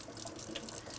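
Running water rinses a small dental handpiece attachment in a sterilization room sink, a brief close splash and steady faucet flow.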